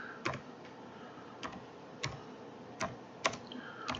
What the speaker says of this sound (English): I want to type in HAVOC